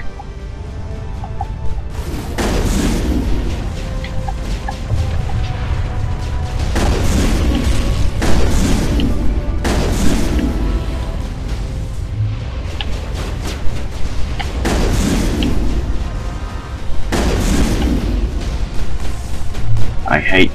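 Rocket explosions in the Mass Effect video game, a series of heavy booming blasts roughly every two to three seconds over continuous combat noise, with someone talking throughout.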